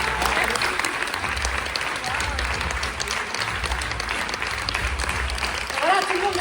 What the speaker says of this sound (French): tout le monde descend, applaudit.